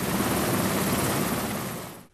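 A helicopter flies during flood evacuation work in northern Türkiye, its steady, loud rotor and engine roar filling the whole clip before cutting off abruptly at the end.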